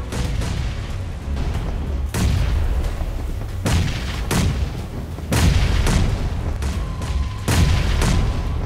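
Repeated grenade and molotov cocktail explosions in a crowded tower-defense shooter match, several heavy booming blasts in quick succession, loud and close, overlapping with continuous battle noise.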